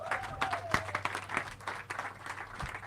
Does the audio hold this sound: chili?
no